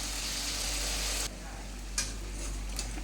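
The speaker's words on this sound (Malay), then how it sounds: "kita celup dan masukkan dalam minyak yang panas" Steady, dense sizzling of battered banana fritters frying in hot oil, loud and close, with a few soft clicks as pieces shift in the pan.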